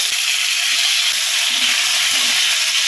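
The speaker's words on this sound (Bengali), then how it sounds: "দিয়ে ওই তেলের মধ্যে আলুগুলোকে একটু ভাজা ভাজা করে" Potatoes fry in hot oil with black cumin seeds, making a constant bright hiss of sizzling oil with a few faint low clinks beneath it and no talking.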